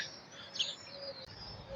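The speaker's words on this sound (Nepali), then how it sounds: "ओ चरा कराउँदैछ यार यहाँ माथि" A single brief, high chirp from a bird somewhere above in a Dubai public area, faint against a steady outdoor hiss.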